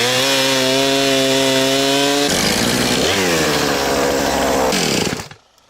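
A chainsaw cuts through dead elm firewood, running loud and steady at close range, its engine pitch dropping as the chain bites into the heavy wood, then cutting off near the end.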